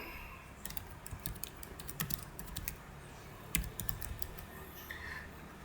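Fingers tap on a computer keyboard, a quiet, close run of irregular clicky keystrokes in short bursts with small pauses between them.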